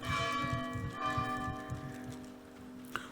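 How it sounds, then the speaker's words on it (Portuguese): A church bell rings out in a resonant, sustained toll with long ringing overtones that slowly fade, loud and alone with no talk, followed by a brief knock at the end. "Não vamos conseguir combater o sino da igreja."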